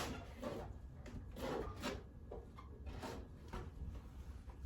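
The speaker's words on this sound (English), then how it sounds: "All right, we're gonna do, again, scrub out to the middle." Steady rubbing and rasping of a scrubber with soap across a small French pane window, continuous strokes running the whole stretch at close range with no talk.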